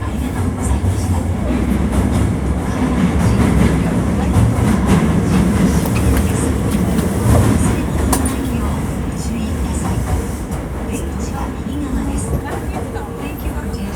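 Interior running sound of a Hankyu Kyoto Line 1300 series train with a Toyo IGBT inverter, running as a semi-express from Osaka-Umeda to Kyoto-Kawaramachi: a steady rumble and rail noise continues throughout, loud and close, with faint low voices at times.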